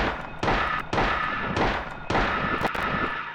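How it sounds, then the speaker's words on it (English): Gunfire in the video game Silent Hill: several sharp shots in irregular succession, each with a short booming tail, loud and close with no talking. "I'm gonna try to shoot this guy."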